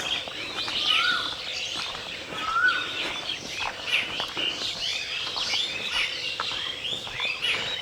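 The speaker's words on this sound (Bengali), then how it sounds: "দেখেন দেখেন কি পরিমাণ পাখি ডাকে।" Many birds call and tweet together from village trees at dawn, bright overlapping chirps and short whistles filling the air steadily, moderately close and loud, with no voices.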